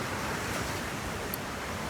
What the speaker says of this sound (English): something about all the wind on the ocean